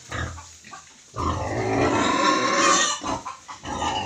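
An old native boar thrashes behind a barrier in a rural pen, giving loud, close, rough grunts and a long squealing outburst in the middle, with no talking.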